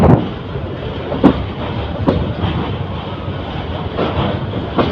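A train rolls steadily along the rails with a loud, continuous rumble and rhythmic wheel clacks about once a second at rail joints, heard from on board the Titas Commuter between Bhairab and Tongi, with no talk.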